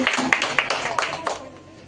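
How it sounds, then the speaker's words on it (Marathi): A crowd applauds a team's score at a Constitution Day school celebration, a dense patter of hand claps with a few sharper peaks that fades out near the end, with a voice faintly mixed in. "टाळ्या वाजवा रे"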